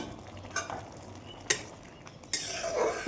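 A spatula stirs masoor lentil dal tarka with egg bhujia in a pan. Sporadic metallic scrapes and clinks sound close over a soft sizzle, with a longer scraping stir near the end and no speech.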